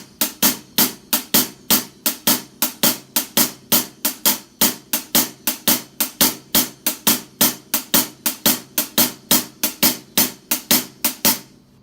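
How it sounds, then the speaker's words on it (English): Cascara rhythm played on a drum set hi-hat: a steady one-measure sixteenth-note pattern of crisp, evenly spaced metallic strokes with accents, repeating close and loud with no other sound. "I'm going to go ahead and play it on the hi-hat here to demonstrate it."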